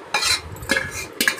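Three quick scraping stirs of a spoon through oil and Telangana-style avakaya mango pickle in a pot, short close rasps with brief pauses between.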